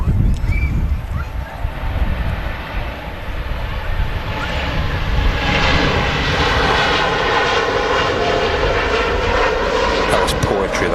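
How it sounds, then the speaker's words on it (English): A Boeing 787 Dreamliner takes off at Manchester Airport, its engines building into a loud, sustained roar that swells and holds steady, with people talking over it. "Very pretty takeoff there with the big wing flex on the Dreamliner"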